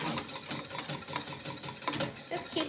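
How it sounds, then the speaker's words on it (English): Lemon curd is whisked in a pan as it thickens on the heat, a quick rhythmic series of metallic scrapes and taps from the whisk against the pan, moderately close and heard with no speech. "just keep whisking"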